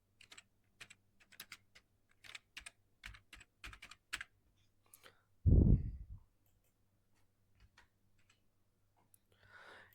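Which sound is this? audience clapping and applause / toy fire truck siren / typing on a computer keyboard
typing on a computer keyboard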